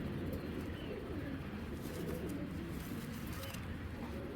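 Pigeons cooing in a low, continuous murmur that overlaps into a dense, steady bed of sound, close and fairly loud with no speech over it.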